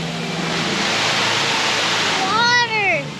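Water splashes steadily into a wishing well fountain, a constant near rush of falling water with a voice rising briefly over it toward the end.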